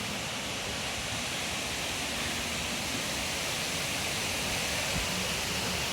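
A waterfall hidden along a hiking trail in St. Andrew, Jamaica, gives a steady, even rush of falling water that holds unchanged throughout, with no voices.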